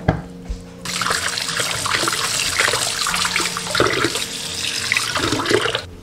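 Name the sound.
running water rinsing boiled pork belly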